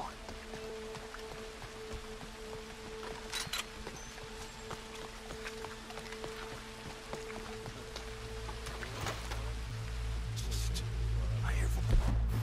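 Steady rain falls in the Red Dead Redemption 2 game world at night, a soft continuous patter with scattered drops and faint creaks, with no one talking.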